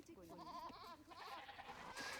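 Sheep bleating in the strategy game Age of Empires, a wavering nasal bleat that quavers through the first second and returns more faintly, low in level over a soft game backdrop.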